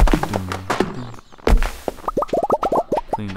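Axe chops at a tree in the farming video game Stardew Valley: a run of quick, hollow wooden thunks in an uneven rhythm, with softer game sounds before them.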